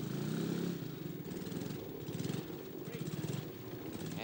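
A Triumph trials motorcycle picks its way through a section at a 1971 trials event in Byford, Western Australia, its engine burbling in uneven bursts of throttle at moderate distance while a commentator speaks over it.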